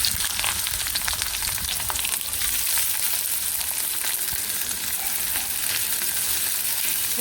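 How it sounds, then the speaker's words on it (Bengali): Chopped onions and green chilies fry in hot oil before greens are added, a loud, dense, continuous sizzle heard close up with occasional stirring scrapes and no talking. "পেঁয়াজটা কোনো একটু একটু ভাজি করে নেয়"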